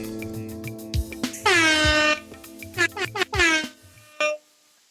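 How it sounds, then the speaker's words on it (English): Air horn blasts twice, loud and close, each a bright blaring burst under a busy mix of lively chatter and other short honks in a podcast shed setting. "I didn't even have to hit the air horn."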